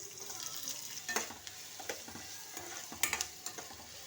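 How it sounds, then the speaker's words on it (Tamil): Onions sautéing in oil for a kovakkai stir-fry, with a soft steady sizzle and repeated light scrapes and taps from a stirring spoon against the pan, close and quiet. "இப்போ அதே எண்ணெயிலேயே நம்ம இந்த வெங்காயம் போட்டு வதக்கிக்கலாம்"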